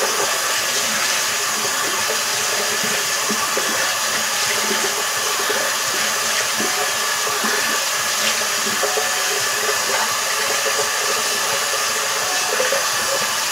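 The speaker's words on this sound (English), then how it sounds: "Now I'm going to rinse it off." Steady running water from a tap rinsing a face mask off skin, a loud, continuous broadband splash and hiss filling the whole stretch without pause, no talking.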